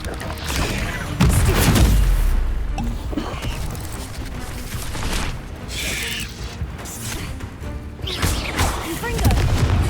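Spell explosions from Bombarda casts in Hogwarts Legacy, heavy booming blasts mixed with clattering mechanical impacts and continuous combat noise across the whole stretch, loud and dense without a clear pause.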